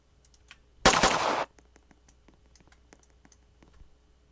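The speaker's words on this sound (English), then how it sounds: "if I shoot the player's arm, it highlights the arm, hand, foot, other hand" A single short burst of Roblox gunfire, loud and close, rising out of near silence with faint clicks scattered around it.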